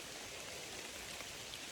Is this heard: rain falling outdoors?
yes